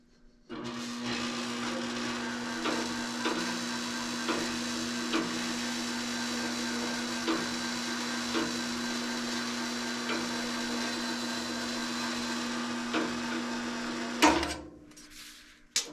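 Sheet metal being rolled through a metal forming machine for a custom hood panel, a steady mechanical hum with a constant low drone and faint periodic clicks for about fourteen seconds, ending in a louder clunk before stopping.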